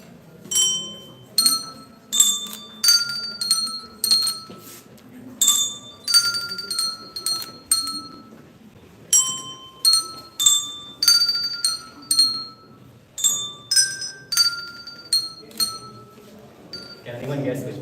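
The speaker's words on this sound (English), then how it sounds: "when I point at your color, you play the corresponding bell" Colour-coded hand bells played by a group of people, bright metallic strikes ringing in short clustered phrases with pauses between, each tone sustaining briefly; faint voices murmur underneath.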